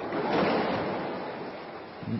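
Broadband ocean waves wash steadily and loudly, a continuous rushing surge with a fresh swell building near the end, heard in open water on a long sea crossing.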